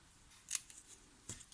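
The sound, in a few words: scissors cutting a scrap of designer series paper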